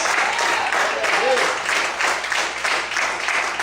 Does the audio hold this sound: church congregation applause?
yes